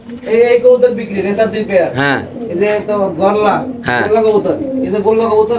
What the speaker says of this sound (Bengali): এই আট খোপে যে আট জোড়া কবুতর আছে